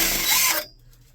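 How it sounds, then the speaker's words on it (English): A power drill running into a wall while mounting a frost-free hydrant pipe, a loud close whir lasting about half a second before stopping abruptly. "Find our other point of drilling."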